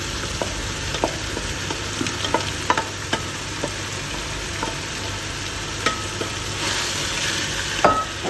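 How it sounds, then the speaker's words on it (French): Minced meat sizzles steadily in a hot pan for a bolognese ragù, with a few leftover bacon pieces, while a spoon scrapes and stirs it in irregular clicks and knocks close by, with no talking. "On va ajouter la viande hachée"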